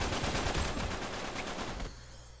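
Dense, continuous automatic gunfire from the video game Uncharted 3 rattles loud and fast for nearly two seconds, then cuts off to a quieter background, with no talking.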